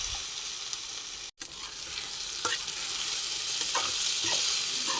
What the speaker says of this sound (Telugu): వంకాయలు బాగా ఫ్రై అయ్యేదాకా ఇలా మధ్య మధ్యలో కలుపుతూనే ఉండాలండి